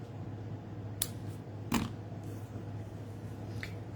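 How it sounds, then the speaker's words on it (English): Scissors snipping ribbon ends to a point on a gift wrap tie, heard as two short, crisp cuts close by and a fainter third snip later, over a quiet room hum. "And now I can just cut my ends on a point."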